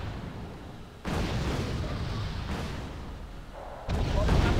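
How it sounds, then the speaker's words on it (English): Cannon fire in the Wargame AirLand Battle video game, with broadband booms arriving in abrupt onsets about every one to three seconds, loud and sustained, over a dense rumbling battle background. "how inaccurate are those cannons?"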